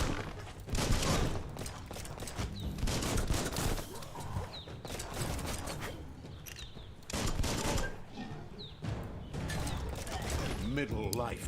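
Gunfire in the video game Biomutant, sustained bursts of shots crackling through a busy, dense game mix, with someone talking over much of it.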